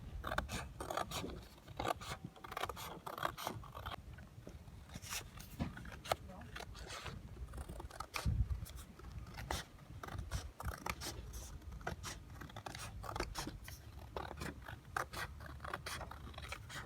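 Scissors cutting paper for a small handbag's handles, repeated crisp snipping strokes at an irregular rhythm, close and fairly quiet, with a person talking at times.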